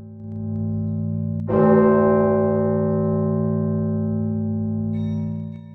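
A single deep Orthodox church bell strikes partway in, its rich metallic tone ringing out and slowly decaying over a steady low hum.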